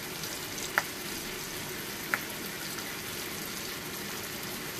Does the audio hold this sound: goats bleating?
no